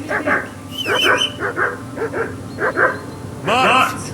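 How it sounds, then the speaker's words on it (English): A dog in the medieval role-playing game Kingdom Come: Deliverance 2 barks loudly and close in quick, rhythmic bursts, with a longer, sharper volley at the end and a voice talking alongside. "I assume you can hear that damn dog of yours barking."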